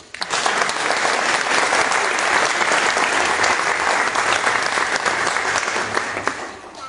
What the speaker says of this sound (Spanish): Para ello un fuerte aplauso.